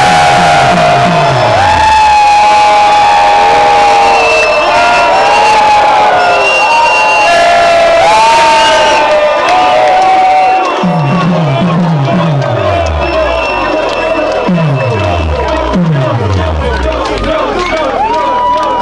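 A concert crowd in Wrocław cheers and roars loudly, with shouts and whistles swelling over a performer's amplified voice, then breaks into rhythmic chanting that continues in repeated waves.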